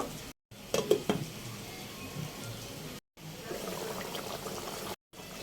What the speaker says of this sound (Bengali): আমি ফাঁকে ফাঁকে একটু নেড়ে ছেড়ে জলটাকে একটু শুকাই নিব